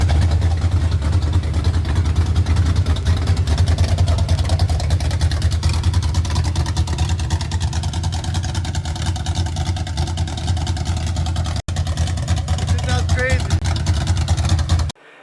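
Chevrolet C10 truck with a huge cam idling, a loud steady low rumble running throughout with continuous engine drone, a brief dropout near the end, and no talking over it.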